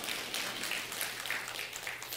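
A church congregation applauding in praise, a steady wash of dense clapping from many hands that holds evenly throughout.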